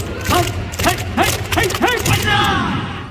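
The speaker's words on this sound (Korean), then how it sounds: "박수 박수" Rhythmic group clapping from a cheering audience at a live Korean fan event, sharp hand claps landing roughly in time while voices shout and chant over them.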